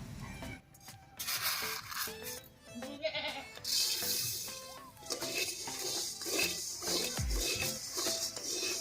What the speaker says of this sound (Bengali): বৌদি এবার ধানটা ভাজবে